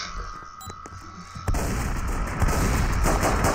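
Gunfire in a police video game starts with a sharp crack partway through and then continues as a dense, loud burst of shots.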